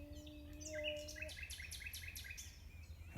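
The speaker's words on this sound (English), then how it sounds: "we've come out looking for nightingales. There's one just singing behind me here." A nightingale sings outdoors in the early morning, a run of bright, varied phrases and repeated high notes coming through a steady background hiss, moderately close.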